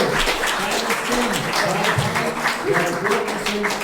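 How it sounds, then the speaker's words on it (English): Steady applause from a crowd, continuous and fairly loud for the whole stretch, with a few voices faintly mixed in. "clap for them again"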